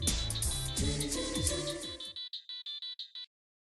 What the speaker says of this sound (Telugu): బావా, కాల్ వస్తుంది